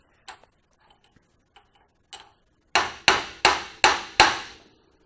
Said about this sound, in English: Can just take a chisel and go in there and spin the cap like that